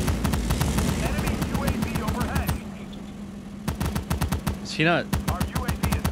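Rapid bursts of automatic gunfire in the video game World War 3, loud and close, with clustered volleys and a brief lull midway, while a player talks over the shooting.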